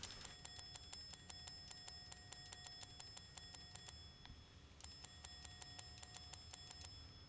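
A little bell in Fallout 4 rings with quick, evenly spaced light dings, kept faint and steady throughout with a brief pause midway.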